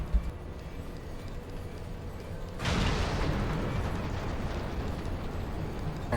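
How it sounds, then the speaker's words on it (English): Ship cannons fire back in Final Fantasy XIV: a sudden heavy boom strikes partway through, then a broad rumbling roar of blasts and debris lingers loudly until the end. "Cannons, return fire"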